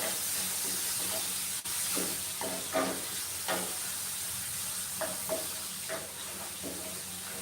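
Finely chopped onion frying in a pan gives a steady close sizzle and hiss, broken by a sharp click and a series of soft stirring and scraping strokes.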